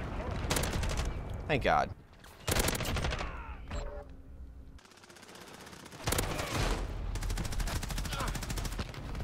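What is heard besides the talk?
G36C gunfire in Modern Warfare video game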